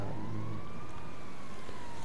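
A police siren in the video game GTA 5 Online: a single faint wailing tone slowly rising and falling over a low rumbling engine-like background, distant and steady for a couple of seconds.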